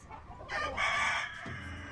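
Chickens cluck and a rooster crows loudly and close at a haunted chicken house attraction in Heflin, Alabama, with one drawn-out crow over the flock with no voices.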